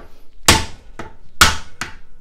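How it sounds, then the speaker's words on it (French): A hammer strikes a pin punch to loosen the washer on an old bicycle freewheel, giving four sharp metallic taps in an uneven rhythm, close and loud, each followed by a brief ring. "un chasse-goupille qu'on va venir introduire délicatement dans le petit trou, et avec le marteau, on va taper dessus"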